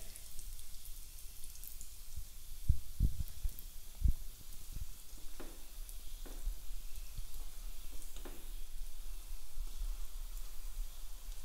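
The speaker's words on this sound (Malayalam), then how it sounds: "ബാക്കിയുള്ള ഡോണട്ട്സും ഇതുപോലെ ഒന്ന് വറുത്തെടുക്കാം" Donuts fry in hot oil with a soft steady sizzle and crackle, punctuated by a few sharp clinks and bumps from utensils early on, close and fairly quiet, no speech.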